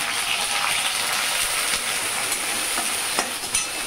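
Onion and garlic frying in a pan over chilli tempering, a continuous bright sizzle with faint stirring scrapes, close and steady with no talk.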